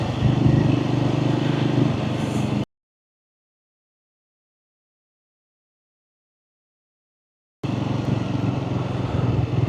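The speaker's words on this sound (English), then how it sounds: "I'm just taking it out for a quick spin to meet one of my mates who's on a T120." A Triumph Scrambler 400X motorcycle being ridden, its engine droning steadily and loud up close with wind and road noise, broken by a silent gap of several seconds in the middle.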